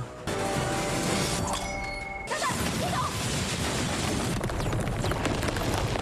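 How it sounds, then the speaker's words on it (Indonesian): A loud blast and crash erupts in a film fight scene, followed by a sustained roar of rumbling debris and noise that stays loud throughout. "tempat itu meledak"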